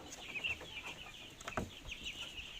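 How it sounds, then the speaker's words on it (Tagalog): Plymouth Rock parent-stock chickens cluck and call softly at close range, a few short overlapping bursts over steady coop background noise, with no talking. "Ito aking bird, plymouth rock, parent stock."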